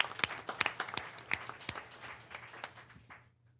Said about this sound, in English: we'll still give him a round of applause.